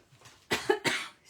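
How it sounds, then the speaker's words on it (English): Two quick, sharp coughs from one person close by, separated by a brief pause, with no other sound around them. "Yeah, I've got somebody's cough, haven't I?"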